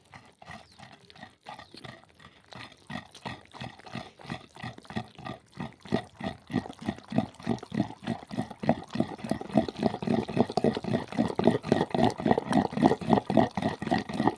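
Cucumber chutney with chilli and salt is ground by hand, a rhythmic series of scraping, grinding strokes that start faint and grow louder and quicker toward the end, with no voices.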